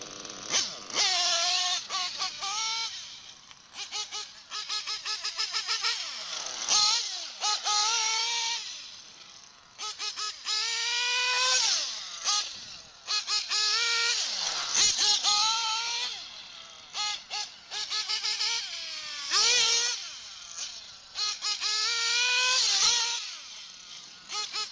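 The small nitro engine of a Tekno NT48.3 RC buggy runs close and loud, with a high buzzing whine that revs up and falls back in repeated bursts, dropping to idle between throttle blips, and no talking.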